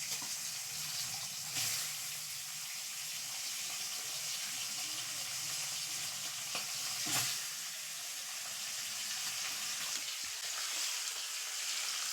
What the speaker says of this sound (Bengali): মাছটাকে ভাজা চাপিয়ে দিই, তেল গরম হয়ে গেছে।